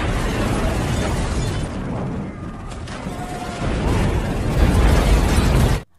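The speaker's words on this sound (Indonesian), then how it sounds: "Ledakan yang cukup besar menghancurkan kapal kesayangan mereka." A boat explodes in a loud, sustained explosive roar, broadband and rumbling, swelling toward the end before cutting off abruptly.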